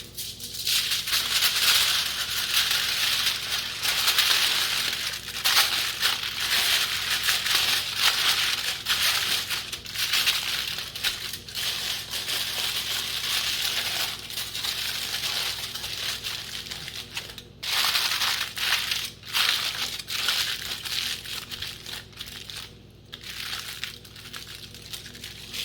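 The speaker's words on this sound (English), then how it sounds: "And once again, double foil, we're just going to bend it over." Double layer of aluminum foil being crinkled and folded over sauced ribs for a Masterbuilt Gravity Series 560 smoker, a steady close crumpling rustle with brief pauses, no talking.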